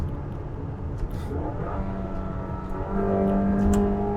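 A Mazda CX-5 petrol engine drones steadily as it revs under engine braking, rising louder and higher in pitch partway through with no talking.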